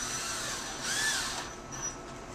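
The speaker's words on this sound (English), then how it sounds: "power drill, that's the easiest way" A power drill drives screws into a wooden skateboard rack during assembly, one short whirring burst that rises and fades, close and fairly loud over room noise.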